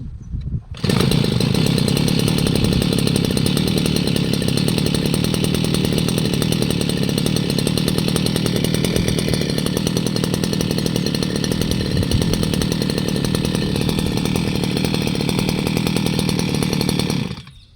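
A 52cc petrol brush cutter engine fires up after a moment and then runs loud and close at a constant high buzzing drone, continuing for a long stretch before cutting off at the end.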